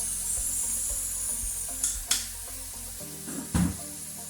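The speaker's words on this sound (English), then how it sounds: "Adding in some soy sauce." Soy sauce hits a hot hibachi cooking surface, giving a soft hiss with a few sharp bursts of sizzle and clatter from utensils toward the end.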